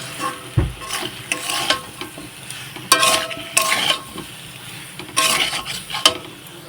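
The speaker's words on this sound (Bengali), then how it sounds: "এখন কিন্তু খুব ভালোভাবে নাড়াচাড়া করে নেব।" Curry with chillies and chilli powder is stirred in a pan, with a spoon scraping and clinking against the metal in short bursts over a soft sizzle, and no talk.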